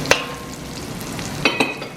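Onions fry in a pan with a steady close sizzle, marked by a few short scraping stirs of a utensil, no talking.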